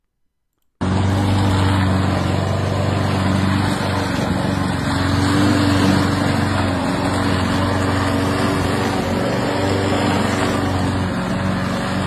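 A lawn mower's small engine runs steadily over concrete, a loud, continuous drone with a high whine, close by and alone, starting abruptly after a brief silence and holding through to the end.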